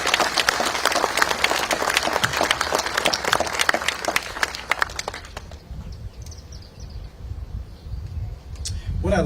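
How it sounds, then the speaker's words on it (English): An audience at a memorial event applauds in a dense burst of clapping that thins out and fades after about five seconds, leaving scattered claps and room murmur. "Let's give them another round of applause."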